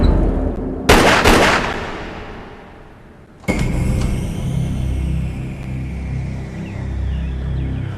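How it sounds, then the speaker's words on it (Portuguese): A single sharp gunshot cracks out nearby, followed by a decaying tail, then a sudden cut to a steady low hum with faint tonal background sounds. "Ouvi, foi tiro, não foi?"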